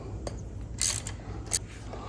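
A ratchet loosens breather bolts on a Mikuni carburetor for a Dyna motorcycle, giving faint, sparse clicks and brief metallic scrapes over a low background hum.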